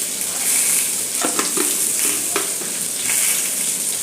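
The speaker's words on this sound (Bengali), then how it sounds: "সব সরঞ্জামগুলোকে এবার ভালো করে একটু কষিয়ে নেব।" Vegetables for an egg curry sizzle and fry in a pan, a loud, constant close hiss broken by a few stirring scrapes and clinks of the spatula, with no talking.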